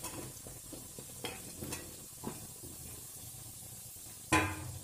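Tomatoes and capsicum sizzle and fry in a masala for restaurant-style paneer masala, a steady close hiss broken by a few stirring scrapes and a louder clatter near the end.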